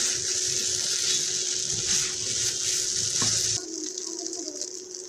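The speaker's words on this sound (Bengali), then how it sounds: "এভাবে নেড়ে চেড়ে আরও 3-4 মিনিট রান্না করব।" Sweet jorda rice cooks in a pan while being stirred, giving a continuous soft sizzle and hiss with faint scraping. The sound stays fairly close and even, with no speech.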